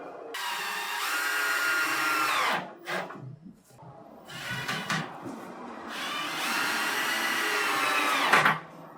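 A drill driver screwing into light, soft wood while building a frame for an acoustic panel, whining in long sustained runs with short pauses and a final brief burst, loud and close.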